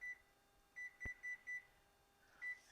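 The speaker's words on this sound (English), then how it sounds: "Timer." A kitchen timer beeps in a series of short, bright electronic tones, five in a quick uneven run and one more after a pause, faint and alone in a quiet room with a single sharp knock among them.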